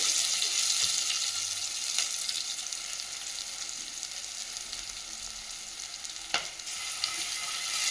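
Lightly ground tomato and onion paste fries in a pan for a village-style river fish curry, giving a steady close hiss and sizzle with a few faint stirring knocks and no speech.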